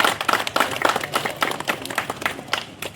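A crowd applauding at a Mandangad Panchayat Samiti sports and cultural event, many hands clapping in a dense, steady burst that rises and falls slightly without pause over a few seconds.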